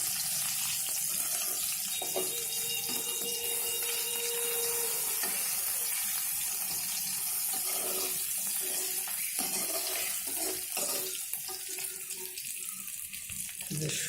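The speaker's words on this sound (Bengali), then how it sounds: "এর উপরে আপনি ডিমটা ছেড়ে দেবেন। ডিমটা ছেড়ে দেওয়ার পরে একটু এপিট ওপিট করে নেবেন।" An egg fries in hot oil over browned garlic in a pan and is turned from side to side: a constant close sizzle with crackles, overlaid by intermittent scraping stirs of a spatula.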